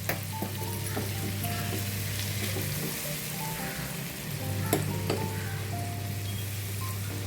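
Asafoetida goes into hot oil with green chili paste for Bhogi bhaji in a home kitchen, giving a steady, dense sizzling hiss over a constant low hum, with faint clinks and no talk.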